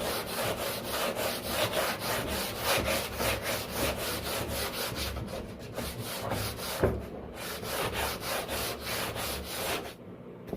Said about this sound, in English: So already with the sanding,